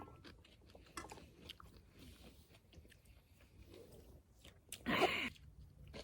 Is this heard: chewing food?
yes